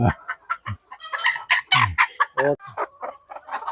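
A spotted black-and-white native rooster clucks close by in a rapid run of loud, throaty calls, some stretched into harsher rising squawks, with no talk over it.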